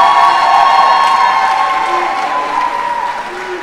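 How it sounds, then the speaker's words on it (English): Applause from a graduation ceremony audience at Pine Forge Academy's 2023 commencement, a steady dense wash of clapping held at an even level throughout, with crowd noise mixed in. "So we want to give Mrs. Blackwood a big round of applause."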